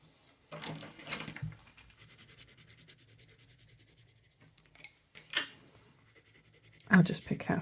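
Derwent Chromaflow coloured pencils scratch and scribble across black paper in short bursts of close, dry strokes, with a person talking between them.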